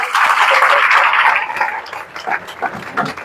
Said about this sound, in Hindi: ताली बजाओ एक बार इनके लिए